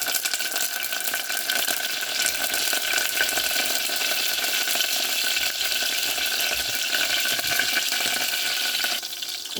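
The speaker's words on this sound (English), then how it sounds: "on this hot oil now, I'm going to put 1 spoon of mustard seeds and my fresh curry patta" Mustard seeds and fresh curry leaves dropped into hot oil, a loud, steady, close sizzle and crackle with scattered popping that continues evenly without pause, no voices.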